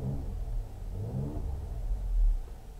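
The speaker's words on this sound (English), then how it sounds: "We just heard the engine change." A 2018 Mercedes-AMG GLC43 Coupe engine rumbles low and then revs up in Sport Plus mode, swelling louder near the end before easing back.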